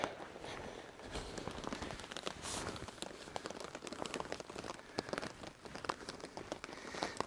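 Heavy rain drums on a camping tent, a dense, continuous patter of countless drops with sharper individual hits standing out, close and steady throughout with no voices.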